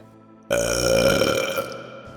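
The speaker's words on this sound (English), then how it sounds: "Baba Butaba burps." A cartoon character lets out one loud, drawn-out burp that bursts in abruptly and rumbles on for over a second before tailing off.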